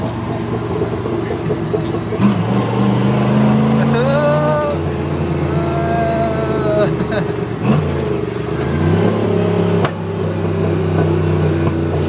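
A rough old farm truck engine runs loudly and steadily, revving up and down through downshifts while people talk over it.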